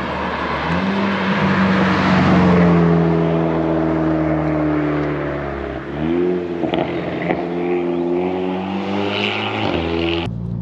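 A Stage 1 remapped VW Golf GTI Edition 30 drives on the road, its engine note loud and rising through the revs, dipping at a gear change and then climbing again.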